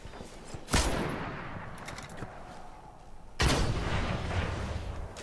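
Machine gun fire in a first-person shooter match on the Twilight Gap map comes as two sharp, loud bursts, a few seconds apart, each trailing into a rumbling echo, with faint clicks and game ambience in between.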